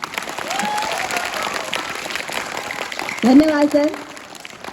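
Audience applause at a children's day school celebration after a dance performance, a steady crowd clapping wash filling the clip while a host speaks over it, with a brief louder voice near the end.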